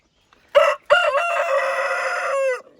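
Dominant breed hens and a rooster in a backyard poultry yard give a loud, close crow, a short call, then a long sustained crow, with no voices present.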